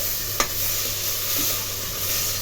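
A paste of tomato and dried red chilli stirred in a pan with capsicum for street-style pav bhaji sizzles steadily, with one sharp utensil knock and soft scraping heard close up, no voices.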